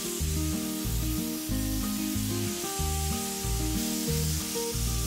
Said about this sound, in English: And of course the door here I can spray paint.